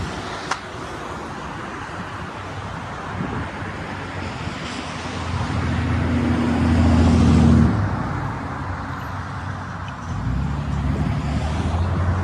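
A car drives along a road outdoors, its engine and tire rumble swelling as it passes and then fading, under steady wind buffeting on the microphone.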